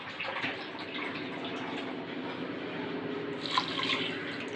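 Water is poured into a pan of sugar to make sugar syrup for thaen mittai, a steady soft trickle and splash heard close and fairly quiet throughout with no talking.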